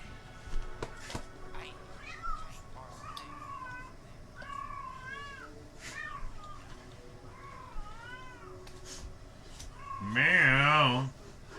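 A cat meows repeatedly in short rising-falling calls, then lets out one long, very loud yowl near the end, with a person's voice speaking nearby in a quiet indoor setting.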